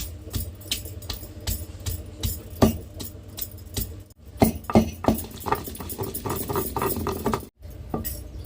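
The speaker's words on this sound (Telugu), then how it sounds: "వర్షం అయితే పడుతుంది ఫ్రెండ్స్" Rain pattering steadily, with irregular sharp drips and taps striking a hard surface nearby, fairly quiet throughout.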